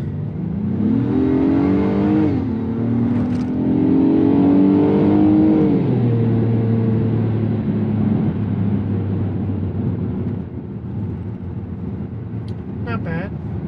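A 2022 Acura MDX SH-AWD A-Spec accelerates hard, its engine note climbing steadily in pitch through the gears before settling into a steady cruise, loud and close from inside the cabin.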